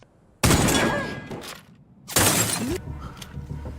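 Two loud, sharp blasts from a gun in a film scene, each ringing out over about a second, with a short pause between them.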